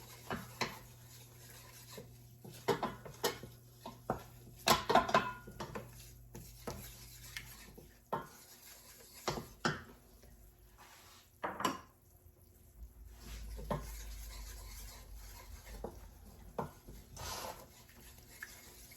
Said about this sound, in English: So we're just going to stir it till the lumps are gone.